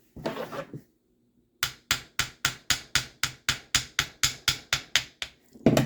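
A crankshaft is tapped out of a Novarossi-era nitro model engine with about fifteen sharp, evenly spaced metallic knocks close up, after a short burst of handling noise and a pause.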